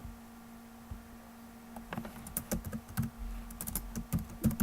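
Quiet clicking of computer keyboard keys as a style name is typed in Adobe InDesign, a short burst of uneven keystrokes over a low steady hum, with no talk.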